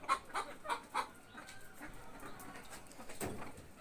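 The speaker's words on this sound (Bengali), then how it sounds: "মুরগি একটা ডিম দিছে সকালবেলা, তাতে সবাইকে জানান দিচ্ছে যে সে ডিম দিয়েছে" A hen clucks after laying an egg in a backyard garden. A few sharp, rhythmic clucks come first, then softer, scattered calls follow, all fairly faint and somewhat distant.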